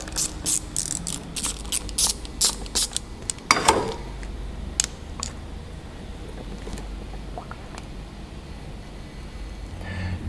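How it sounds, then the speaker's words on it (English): Screws being backed out with a T15 Torx bit on an Evinrude VRO oil pump, giving a close run of sharp ratcheting clicks and ticks over the first few seconds before fading to a quiet hum. "So same T15 Torx bits take the other side off."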